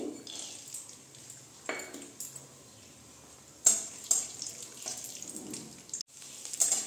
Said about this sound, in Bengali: এই যে আমি কাঁচা বাদামগুলো আমি ভেজে নিচ্ছি